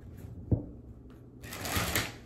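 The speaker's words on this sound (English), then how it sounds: "Oh, that was a bad shuffle" Tarot cards being shuffled by hand, a soft riffling rustle close by with a light tap, building over the last second, with no talk.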